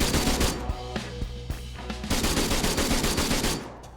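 Marksman rifle in Arma 3 fired in a rapid series of loud, sharp shots, a dense burst of cracks with brief gaps, close and continuous over a few seconds with no talk.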